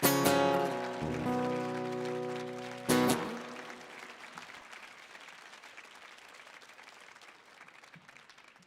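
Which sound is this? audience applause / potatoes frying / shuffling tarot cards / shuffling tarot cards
audience applause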